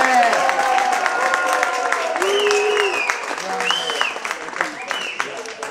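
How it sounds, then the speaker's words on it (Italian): Crowd at a regional bocce tournament in Parma applauding and cheering the winner, sustained clapping with whistles and shouts, loud and close throughout. "Tifo da stadio per il vincitore Giuseppe Paglioli."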